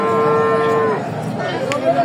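A heifer or cow gives a loud, close, drawn-out moo at a busy rural cattle market in Sirajganj, with a faint murmur of market noise behind it.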